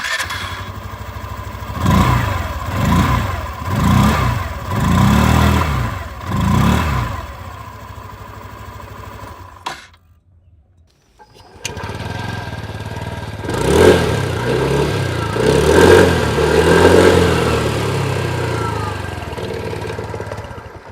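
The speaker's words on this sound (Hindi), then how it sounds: "दोनों ही मॉडल की अब यहाँ पर बारी बारी से जो एग्जॉस्ट साउंड है वो भी सुन लीजिए" Two scooter models play their exhaust sounds one after the other: the first revs in several rhythmic bursts and then idles, and after a brief silence the second idles and revs more gently with a steady throb.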